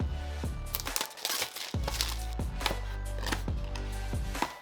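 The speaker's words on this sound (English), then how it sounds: "So let's open the box and see what's inside." Unboxing of a DJI Pocket 3 Creator Combo: close, crisp crinkling, scraping and tapping of cardboard and packaging in quick irregular bursts, with no talking.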